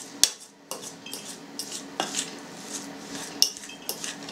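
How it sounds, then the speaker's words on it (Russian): A spoon stirs a homemade processed cheese mixture made from cottage cheese and melting salt, with irregular metallic clinks and scrapes against the bowl, close and clear with no talking. "Еще раз все перемешиваем."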